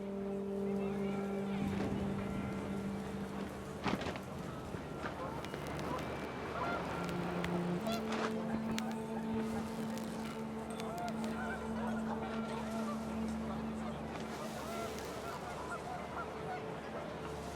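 Panicked geese honk in the video game What Remains of Edith Finch, with repeated calls over steady wind and ambient noise, moderately loud and continuous throughout.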